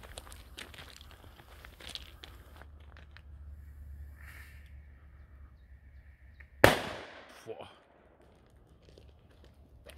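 A Mr. Kanonenschlag firecracker goes off outdoors with a single sharp, loud bang and a short rumbling tail, coming after quiet rustling and faint background voices.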